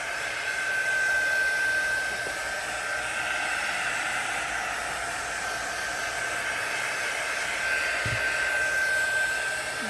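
A hair dryer blows steadily on an epoxy resin plate, a loud, even whooshing roar with a thin constant whine that runs unbroken from start to finish, close by and alone.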